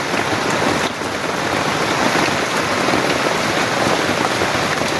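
A loud, constant downpour during severe flooding patters thickly on nearby surfaces, a continuous rushing hiss with no one speaking.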